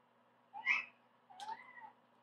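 A house cat meows twice in quick succession, the second call longer and rising, moderately faint against a quiet room with no talking.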